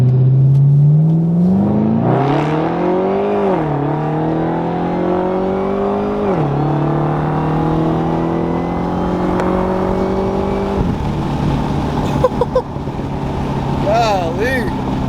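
A 600 hp 2013 Cadillac CTS-V engine pulls hard and loud up close, its pitch climbing in several long surges with drops between them, then settles into a burbling exhaust with a few crackles near the end.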